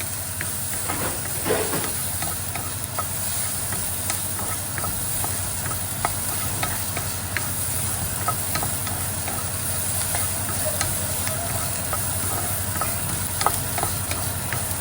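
Onions sautéing in oil for a curry give a steady, moderately loud hiss and sizzle throughout, with occasional clicks of stirring and no voices.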